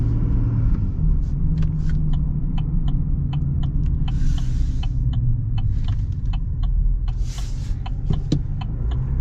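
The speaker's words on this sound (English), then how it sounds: "can you hear the turbo? It's beautiful." A 2025 Chevy Silverado Trail Boss Duramax diesel engine rumbles low and steady from inside the cab, with faint turbo whine above it and regular clicking ticks throughout.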